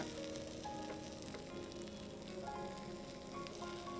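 Something fries in a pan before eggs go in, giving a continuous low crackling sizzle at moderate level, with faint tonal sounds running underneath.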